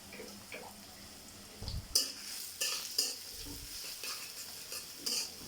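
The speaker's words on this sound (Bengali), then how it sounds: "দিয়ে দিব পেঁয়াজ কুচি" Chopped onions in white oil in a karahi, stirred with a utensil: a faint sizzle under several distinct scraping and clinking strokes against the pan, spaced irregularly.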